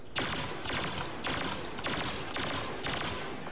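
Shots ring out in a shooter video game while the player jitter peeks around a corner. Four sharp, loud reports fall at roughly even intervals over a steady background.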